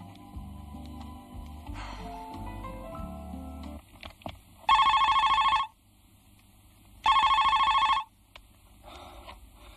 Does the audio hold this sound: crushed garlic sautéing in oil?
no